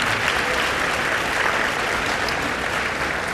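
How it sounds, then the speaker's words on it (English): Audience at an evening awards ceremony clapping, a dense, steady, loud round of applause filling the room from start to finish, with no voices standing out. "Can you give them a round of applause too?"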